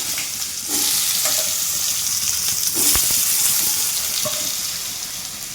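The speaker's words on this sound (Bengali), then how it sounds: "এবার আলুগুলি দিয়ে এই তেলের মধ্যে আলুগুলো ভেজে নেব।" Potatoes sizzle in hot oil with panch phoron five-spice seeds in a pan, a steady, close frying hiss that swells as they go in, with occasional light utensil taps.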